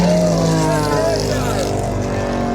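A powerful engine roars past at speed as a plane races a car at an airshow, its pitch sliding downward as it goes by, loud and close, with a crowd and commentary beneath.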